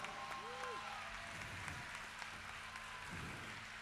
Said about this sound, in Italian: il nuovo arrivato al quale vorrei fare uno speciale applauso è Francesco Corona